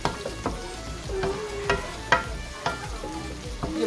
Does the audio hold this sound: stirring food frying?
yes